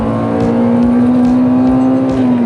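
A Honda Civic EG6 VTi with a VTEC engine and 300,000 km on it drones loud and close at high, steady revs, holding an even pitch with no talking.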